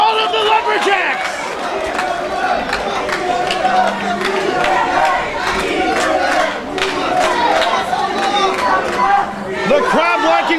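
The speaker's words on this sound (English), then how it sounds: "The crowd liking what they're seeing, chanting EWF" A professional wrestling crowd at an EWF event cheering and chanting, a dense loud roar of many voices with rhythmic shouting sustained throughout.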